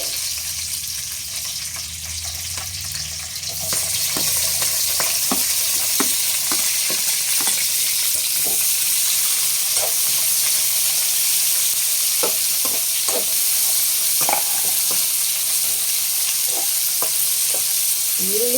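Onion, tomato, coconut, garlic and curry leaves frying in hot oil for a bamboo shoot curry, a loud steady sizzle with repeated scraping stirs, starting after a quieter moment.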